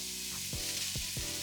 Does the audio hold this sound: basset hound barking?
no